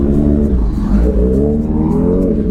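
A G900 motorbike roars past close by, its loud engine drone rising and falling steadily under steady traffic noise, with no speech.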